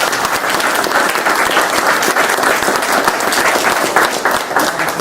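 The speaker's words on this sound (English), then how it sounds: "Let's give them a round of applause." A roomful of people at a medical imaging center open house give the staff a round of applause, loud dense clapping sustained without a break from start to end.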